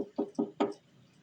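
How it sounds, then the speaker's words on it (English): Three quick, hollow knocks rap on a bedroom window in a steady rhythm, close but soft, followed by quiet. "I heard a knock on my bedroom window."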